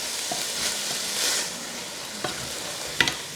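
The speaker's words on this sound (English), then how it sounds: "I am going to add the lentils, the mugg, give it a bit of a stir." Mung dal lentils stirred into a pot with frying onions, giving a close, steady sizzle with a few soft scrapes and a sharper clink of a spoon near the end.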